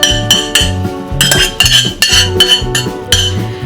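A metal ladle clinks and scrapes repeatedly against a pot and bowl while serving smoked sausage lentil stew, with sharp rhythmic metallic knocks close up and no speech.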